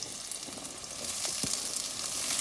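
Onions sizzle in a frying pan for sweet and sour chicken while a utensil stirs them. A soft, even hiss carries a few light scraping stir sounds, close and fairly quiet.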